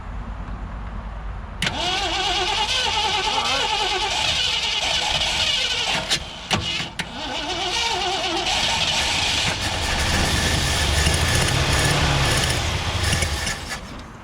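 1967 Ford Galaxie 500 engine with a bent push rod and a carburetor short on gas, cranking with a steady whirring starter drone, a pause of clatter midway, then cranking again, loud and close.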